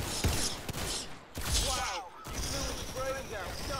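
Gunfire in a Roblox game comes as bursts and single cracking shots amid clicks and thumps, with a person talking excitedly over the action.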